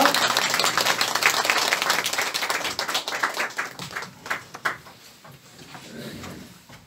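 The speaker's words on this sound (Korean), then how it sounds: "우리 주님 앞에 다시 한번 우리 감사와 영광의 박수 올리겠습니다." Church congregation clapping at an anniversary thanksgiving service, a loud dense burst of applause that thins into scattered claps and fades out over several seconds.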